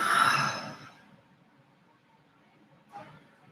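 A deep, breathy exhale during a guided stretch and meditation session, loud and close, fading out over about a second, followed by quiet room tone and a short soft breath near the end.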